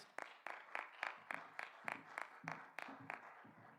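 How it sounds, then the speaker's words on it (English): An audience at a science event applauds, sounding faint and distant, with a steady, evenly spaced rhythm of sharp claps repeating roughly every third of a second. "Let's give them a big round of applause."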